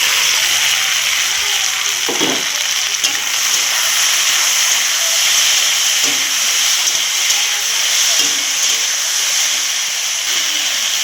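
Tomato dropped into a pan of fried onion and chili hisses in a loud, continuous sizzle, with a few soft knocks and stirring sounds over the steady steam-like rush and no talk.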